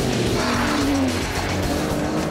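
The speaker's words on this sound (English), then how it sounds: "the sheer sound of that V12 warming up" An Aston Martin DBS with a 510-horsepower V12 growls loudly and continuously up close, a dense deep engine roar with no talking over it.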